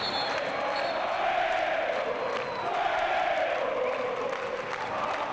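Nacional fans cheering at a Basketball Champions League quarter-final game, a loud steady crowd roar with rising shouts and whoops filling the arena throughout.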